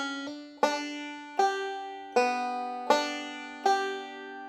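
A bluegrass banjo plays the opening measure of a tune: five bright plucked notes and chords, each sharp attack ringing out, close and clear with no voices.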